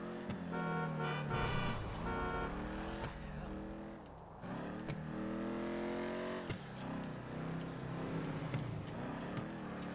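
A Ruiner car driving in GTA Online, its engine revving up and dropping through gear shifts in a steady, close drone that rises and falls over several seconds.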